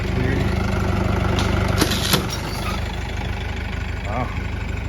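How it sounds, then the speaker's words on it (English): A tractor's low, steady engine idles close by near a creek, rumbling continuously with a few brief clanks and knocks over it. "Using the tractor to help us pull the branches out of the creek here."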